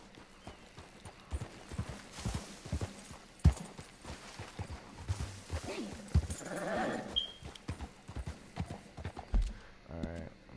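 A horse's hooves clip-clop at a steady walking rhythm in a PS4 video game, crisp clopping over game ambience, with a voice talking over part of it.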